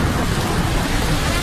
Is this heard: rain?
yes